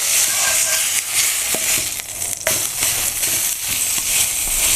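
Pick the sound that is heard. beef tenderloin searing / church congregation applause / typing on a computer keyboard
beef tenderloin searing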